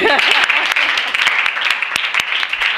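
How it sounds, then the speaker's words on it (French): Schoolchildren at a school performance applaud, a loud, close burst of quick overlapping claps, with a voice briefly heard at the start. "Est-ce qu'on ne peut pas applaudir?"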